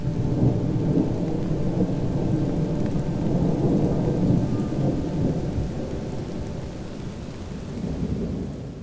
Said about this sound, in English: Every evening in the Great Victoria Desert, there's some rain.